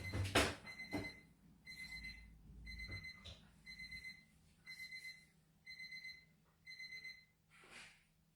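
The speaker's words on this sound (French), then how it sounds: "C'est le réveil de qui?" An alarm clock rings in repeated bursts of bright electronic beeping, about eight pulses with short gaps, heard faintly and somewhat distant after a few louder thumps and knocks at the start.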